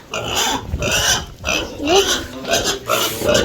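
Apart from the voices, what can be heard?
pig grunting on a village farm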